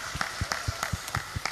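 Scattered clapping from an audience at a large Islamic religious gathering in Wonosobo, faint and sparse, a handful of claps spread over a short moment.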